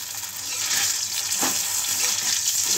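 Eggs fry in a hot pan, making a steady, close crackling sizzle with occasional stirring scrapes and a slight swell in loudness after the start.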